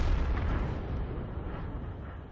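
An artillery shell from a Bishop self-propelled gun in a tank video game strikes a Churchill 7 tank, a heavy booming blast that rolls off into a decaying rumble, with no talking.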